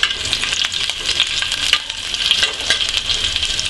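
Green chilies sizzle as they hit hot oil with cumin and garlic, a steady, dense frying hiss with light stirring throughout, close and alone.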